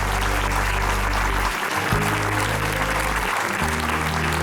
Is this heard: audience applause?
yes